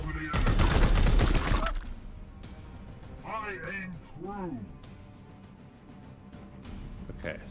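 A loud, dense burst of rapid gunfire from Warhammer 40,000: Chaos Gate - Daemonhunters lasts about two seconds up front, then fades as game voices and background sounds continue.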